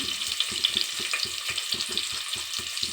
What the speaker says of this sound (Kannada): ಸಣ್ಣದಾಗಿ ಹಚ್ಕೊಂಡಿರೋಂಥ 2 ಈರುಳ್ಳಿ ಹಾಕ್ತಾಯಿದ್ದೀನಿ